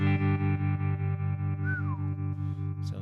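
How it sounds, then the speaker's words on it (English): An electric guitar plays through an amp with its tremolo effect switched on: a sustained, slightly distorted chord pulses in quick, even throbs, with one note bending upward partway through. The sound is close and clear, and no voices are heard. "We do have a little tremolo we can turn on, which is great."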